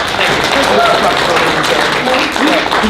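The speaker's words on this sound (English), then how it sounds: "Give her a round of applause" Audience applause at an acting workshop, a steady dense wash of clapping from a room full of people lasting the whole stretch, with some voices mixed in.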